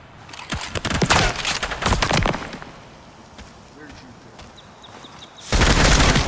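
Weapon fire from the shooter game Project Silverfish, with loud clusters of rapid shots in the first two seconds, a quieter stretch, then a heavy burst at the end; a voice is faintly heard in the background.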